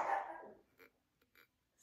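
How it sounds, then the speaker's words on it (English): A dog barks once nearby, a loud burst at the start that trails off, followed by a few faint, brief sounds in an otherwise quiet room. "Sorry, my dog is barking at something."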